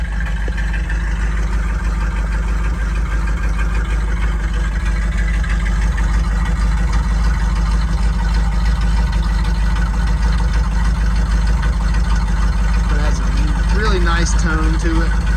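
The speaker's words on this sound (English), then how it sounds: "This car has a factory style exhaust system, so it's not very loud." A 1967 Ford Mustang 390 V8 idles steadily through a factory-style exhaust with a low, smooth rumble and a mild exhaust note; a brief higher tone rises near the end over the constant drone.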